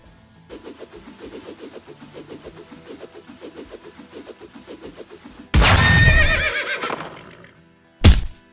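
Steady rhythmic clopping gives way to a loud, shrill horse whinny that fades out, followed by a short final snort, from an English-dubbed anime episode of Steel Ball Run.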